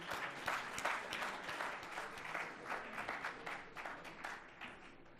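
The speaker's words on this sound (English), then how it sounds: "May I request a round of applause for the dignitaries?" An audience at a formal ceremony applauding the dignitaries, a sustained round of many people clapping with crisp individual claps, moderately distant and gradually tapering toward the end.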